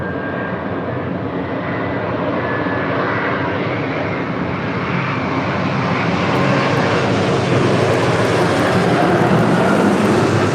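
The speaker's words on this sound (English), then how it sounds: "the big Q, Qatar Airways, the A350-1000, coming in from Doha." A Qatar Airways Airbus A350-1000 arriving from Doha lands at LAX, its jet roar building steadily louder as it nears and passes overhead, with no talk.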